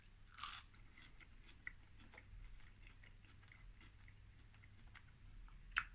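Oven chips served with Swedish-style meatballs and cream sauce being chewed, soft crunching bites with a louder crunch at the start and end, close and quiet, no speech.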